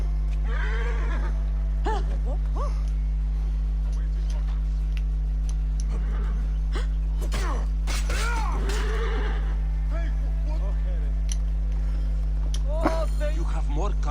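A horse whinnies in Assassin's Creed Origins, with several neighing calls spread through the stretch over a steady low game hum, each bright and fairly close, with faint hoof clicks and a voice talking at times.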